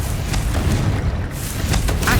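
A Confringo fire spell explosion in Hogwarts Legacy, a heavy, sustained booming roar with rumbling low end and a few crackling bursts on top.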